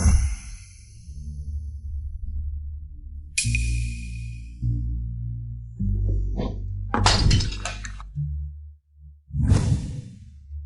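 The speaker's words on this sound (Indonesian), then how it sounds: "cuma pecah sebuah mangkok" A ceramic bowl breaking: a sharp shattering crash with clinking fragments, then a second burst, following a soft whoosh over a quiet background.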